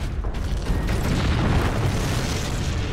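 A grenade blast in the video game Warhammer 40k Space Marine, a dense, booming rumble that rolls on for the full stretch with steady loud low-end energy and no talk.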